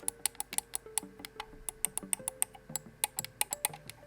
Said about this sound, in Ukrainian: і головне, всі кнопочки натискаються нормально, і характерний такий ретро-клік